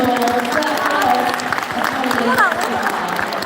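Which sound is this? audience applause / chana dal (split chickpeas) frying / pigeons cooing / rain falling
audience applause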